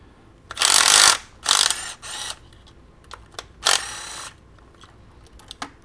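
A ratchet with an extender bar clicks while loosening 8 mm intercooler bracket bolts on a 2002-2006 MINI Cooper R53, with several separate bursts of close mechanical clicking and ratcheting broken by short pauses.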